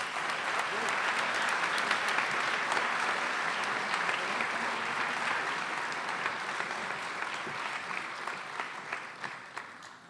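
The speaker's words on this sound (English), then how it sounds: "Round of applause." Full, sustained applause at the ABC Awards 2014 ceremony, a thick wash of clapping with a few sharper individual claps, gradually tapering off near the end.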